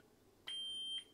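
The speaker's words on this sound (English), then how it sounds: "that beep right there means you're at max volume" A single sustained electronic beep from a Neopixel lightsaber signalling max volume, clear and steady for about half a second, rising out of a quiet background hiss.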